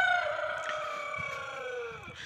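A rooster crows once in a long, drawn-out call that falls slowly in pitch, fairly close and clear, with faint background noise underneath.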